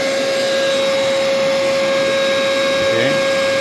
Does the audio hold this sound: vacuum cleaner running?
yes